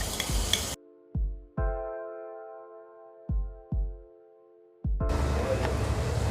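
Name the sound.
cumin and ginger-garlic paste sizzling in hot oil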